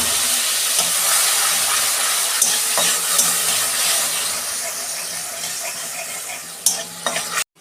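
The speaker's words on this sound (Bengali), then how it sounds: "এই যে ফোড়নটা ভাজা হয়ে গেছে, আমি এই লঙ্কা রসুনের পেস্টটা দিয়ে দিচ্ছি।" A chilli and garlic paste hits hot tempering oil and sizzles loudly and steadily close by, with a few stirring clatters toward the end.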